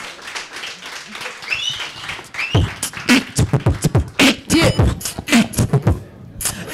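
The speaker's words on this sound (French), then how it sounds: "J'aimerais qu'on applaudisse bien fort comme il se doit, s'il vous plaît, les Young Boys." A New Year's Eve live-show crowd applauds for a performing group, bursts of clapping and cheering that swell and break up amid voices and stage noise.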